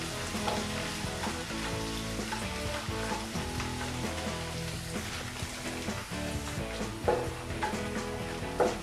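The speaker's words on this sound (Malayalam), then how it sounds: "ഇഞ്ചിയും വെളുത്തുള്ളിയും കൂടെ ഇട്ട് കൊടുക്കുക." Ginger and garlic frying in oil in a pan for paneer bhurji, a dense continuous crackling sizzle, close and even throughout, with a couple of stirring knocks near the end.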